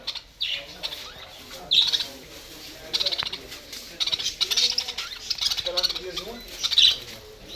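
Budgerigars in a bird shop chirp and squawk in quick, scattered bursts close by, with soft background murmur.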